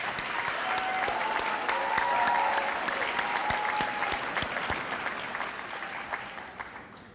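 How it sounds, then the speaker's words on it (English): Graduates at an adult education recognition ceremony receive a round of applause from the audience, a sustained, moderately distant wash of clapping that swells slightly then gradually tapers, with a faint sustained tone drifting underneath. "Can I get another round of applause for our graduates?"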